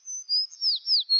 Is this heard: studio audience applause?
no